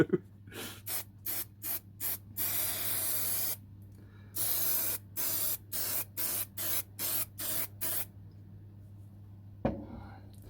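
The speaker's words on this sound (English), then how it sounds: "the spray adhesive eats right through this plastic" An aerosol can of spray adhesive hisses in a series of short spray bursts with one longer blast onto plastic model parts, over a steady low hum, close by.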